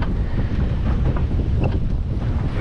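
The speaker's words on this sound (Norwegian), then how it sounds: "Kraftig vind, og ser ut som det er mye vann også." Strong wind buffets a fishing boat out trolling for pollock, a loud continuous roaring rush with water noise beneath and no pauses.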